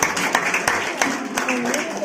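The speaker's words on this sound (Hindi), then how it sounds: "ताली का स्वागत करेंगे।" An audience at a farewell ceremony for a science coaching class claps to welcome someone, sharp claps scattered over steady talking and crowd murmur.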